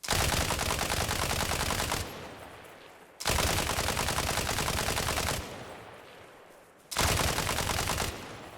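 PKM light machine gun in Arma Reforger firing three long sustained automatic bursts, loud and close, each dense roar of rapid shots separated by brief quieter gaps with trailing echo.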